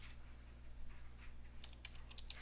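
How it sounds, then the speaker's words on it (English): Quiet keystrokes on a computer keyboard as a message is typed, faint at first and then a quick cluster of clicks in the second half over a steady low hum. "Then I'm going to type a message"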